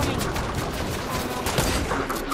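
Gunfire from the video game Fortnite during a squads match, a dense, continuous barrage of shots at steady loudness throughout, with some brief voice under the noise.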